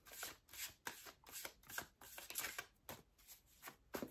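Tarot cards are shuffled in quick riffling bursts, a series of crisp papery flutters repeating close by, with no voices.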